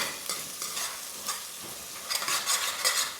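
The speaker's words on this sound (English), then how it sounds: "Stir that in" Ketchup is stirred into food in a pan over gentle sizzling, with soft scraping strokes coming in irregular bursts, faint and close.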